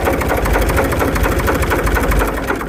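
A dumper truck engine idles in a steady, rapid chugging rhythm, loud and close throughout, with no voices.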